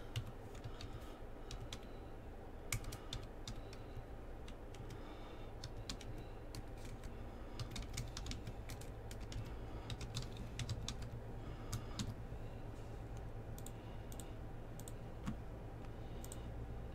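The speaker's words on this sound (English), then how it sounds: "Let me write this or type this real quick before" Fast typing on a computer keyboard, with steady bursts of light clicking keystrokes at moderate distance over a constant low room hum.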